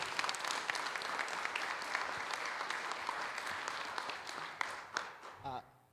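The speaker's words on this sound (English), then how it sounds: "So one more round of applause for Daniel." A GNU Radio Conference 2025 audience claps for a speaker in a sustained, full round of applause that thins and fades near the end, where a voice briefly cuts in.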